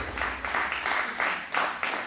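Audience applause for Angela, the host at an MLK celebration day held by a Cape Verdean association, a steady patter of clapping from a crowd that swells in bursts and runs throughout.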